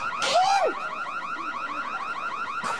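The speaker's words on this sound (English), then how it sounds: "Oh, my God, the alarm." A car alarm sounds loudly and nearby, starting with a rising and falling whoop and then moving into a rapid repeating warble that carries on to the end.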